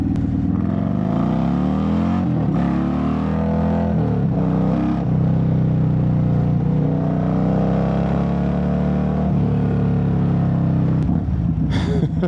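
A Harley-Davidson motorcycle engine rumbles loudly and close while accelerating hard, its deep throbbing note rising in pitch through several gear changes over a steady road roar.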